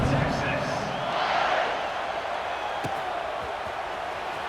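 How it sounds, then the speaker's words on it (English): A stadium crowd in the EA Sports College Football 26 video game roars steadily after a scoring drive before a kickoff, a broad, sustained wash of cheering with a commentator talking over it. "this crowd is feeling themselves after that last drive"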